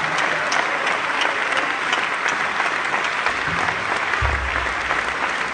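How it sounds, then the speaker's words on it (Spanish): A crowd applauds continuously and energetically at a Spanish-language church missionary convention, dense clapping filling the whole stretch without pause. "Un aplauso a la gloria de su nombre en esta noche."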